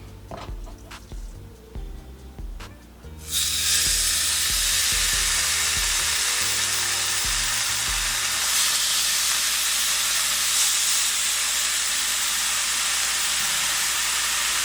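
Raw fish fillets fry in a hot pan. After a few soft clanks, a loud, steady sizzle bursts in and continues strongly on its own, close by.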